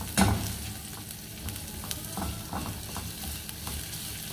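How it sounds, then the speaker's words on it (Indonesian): Onions frying in a pan until wilted for a beef and vegetable soup give a soft, steady sizzle with occasional stirring scrapes, fairly quiet and close, with no voices. "ini sampai layu ya bawang bombaynya"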